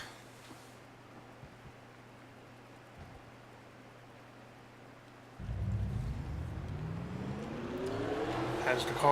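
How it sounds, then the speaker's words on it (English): Race car engines at a superspeedway in a racing video game start up after a quiet hum, a loud sustained roar that builds and climbs in pitch. "Drivers, start your engines."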